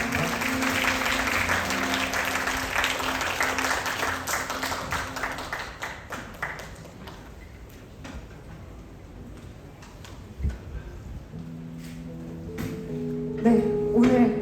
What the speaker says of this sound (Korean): 하나님께 감사의 박수 드립니다